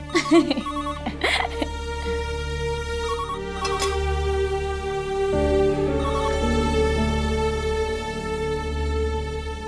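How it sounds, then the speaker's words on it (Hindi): A telephone rings in a domestic setting, repeated electronic ringtone bursts over steady background music, with someone speaking briefly near the start. "ये फोन सुनो तुम।"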